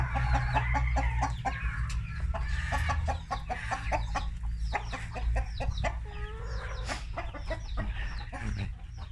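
Several laying hens cluck and chatter continuously nearby on a farm over a steady low hum, their calls overlapping in a busy, uneven rhythm.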